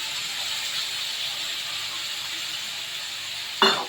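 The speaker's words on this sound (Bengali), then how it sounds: "আলু পেঁপেগুলো ভালো করে কষে রাখে এবার মশলাটা দিয়ে দিলাম" A spice paste hits a pan of frying potato and papaya for a prawn curry, giving a steady close sizzling hiss that flares into a louder burst of spitting near the end.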